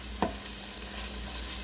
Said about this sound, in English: We're going to let that cook and sizzle a little bit.